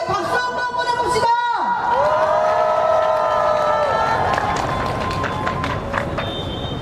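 Union members applaud and cheer at a strike rally, a loud, dense crowd with whoops and shouts, chanting voices and a brief sweeping tone near the start, clapping steady throughout.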